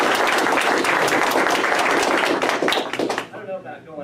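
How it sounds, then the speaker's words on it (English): An audience claps and applauds for a speaker at a liberty-themed political event, dense and loud for about three seconds before fading as a voice begins talking. "a big round of applause for my friend and yours"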